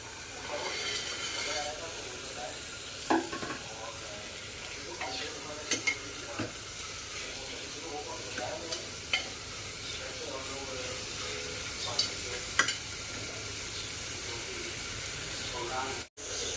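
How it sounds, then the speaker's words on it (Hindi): Masala with chickpeas frying on a low flame gives a steady, soft sizzle with occasional spoon scrapes and stirring clicks, while a voice speaks over it at times. "काफ़ी बढ़िया मसाला भुन चुका है, काफ़ी अच्छा कलर आ रहा है।"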